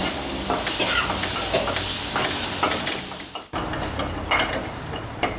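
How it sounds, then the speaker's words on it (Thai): Crispy chili and garlic are stir-fried in a pan over low heat, giving a continuous close sizzle broken by scraping stirs and one sharp clatter midway, with no talking. "เราจะผัดด้วยพริกกระเทียมกรอบนิดนึง"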